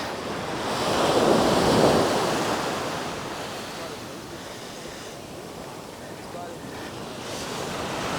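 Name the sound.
ocean waves on a beach in Bali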